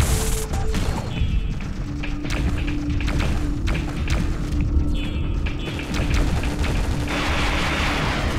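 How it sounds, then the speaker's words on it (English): A grenade blast in the video game Gun Metal, a dull thud landing within a dense, continuous roar of game combat noise with scattered impacts and gunfire-like taps. "Grenade."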